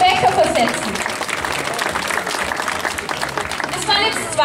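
A crowd at an outdoor children's market event claps for a kids' riding game, a continuous burst of applause with voices faintly mixed in.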